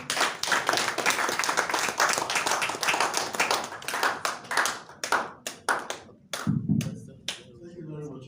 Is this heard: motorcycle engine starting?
no